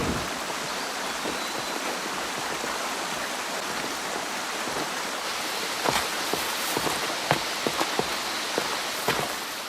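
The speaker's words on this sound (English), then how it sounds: "a small tributary of the Ussuri River rushes over volcanic rocks" A small tributary of the Ussuri River rushes over volcanic rocks near the Russian border, a steady, full hiss of flowing water with occasional close splashes and drips.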